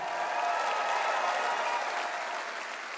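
A concert audience at the Grand Ole Opry applauds and cheers, a dense, steady wash of clapping from a large crowd that slowly eases in intensity over three seconds.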